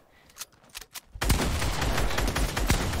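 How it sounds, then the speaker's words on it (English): Fortnite gunfire, with a few scattered shots at first and then a dense, loud burst of rapid automatic fire that carries on without a break. "That's Priscilla shooting at you."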